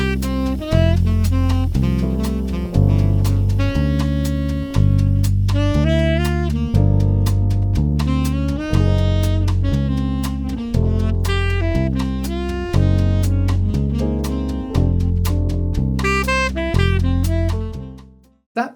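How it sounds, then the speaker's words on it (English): A relaxed bossa-style jazz backing groove plays alone, with steady walking bass, chord comping and light percussion, ending with a short fade. "That backing track was from the Quartet app."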